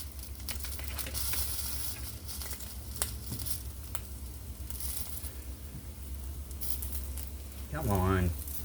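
Slices of SPAM fry in a pan with a soft, steady sizzle and light crackle, heard close up for several seconds under a low hum, with a brief voice near the end.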